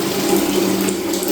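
A Monique Flow Dial Pro diverter spout runs a strong, continuous stream of water into a bathroom fitting, loud and close with a steady hollow hiss and no talk.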